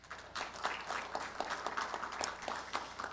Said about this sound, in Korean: 이 자리에는 없지만 김재현 부회장님, 김동현 회장님께 박수를 좀 부탁드리겠습니다.